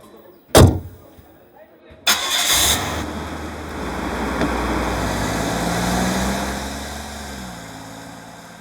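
A car engine cranks and catches after a sharp door thud, then settles into a steady, close idle hum that runs on without talk.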